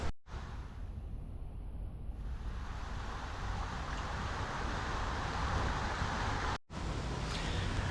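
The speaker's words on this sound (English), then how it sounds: "you can just hear the water flowing so good" Water flows steadily along a river at Lagoon amusement park, a continuous broad rushing wash heard nearby with no talk, briefly cut twice.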